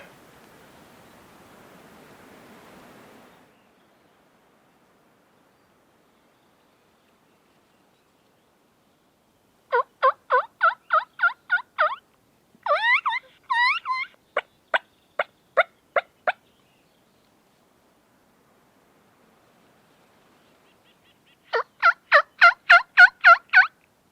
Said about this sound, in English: I've got some turkey coming in way down the pasture.